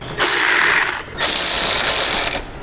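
A ratchet wrench backing out bolts on a Harley-Davidson Road Glide headlight mount, two close, loud runs of rapid clicking ratchet strokes separated by a short pause, with no talking.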